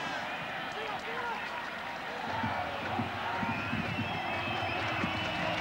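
A large home crowd at a Poland versus England football qualifier roars steadily at a distance, a broad wash of chanting and cheering that swells slightly, under a commentator's voice.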